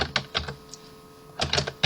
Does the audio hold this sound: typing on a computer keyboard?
yes